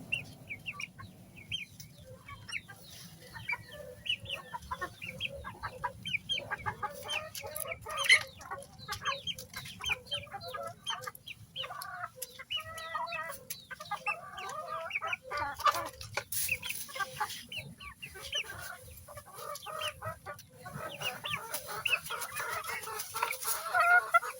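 Young pet chicks cheep in a busy chorus of high, rapid peeps, close by and continuous, over a low background rumble with no talking.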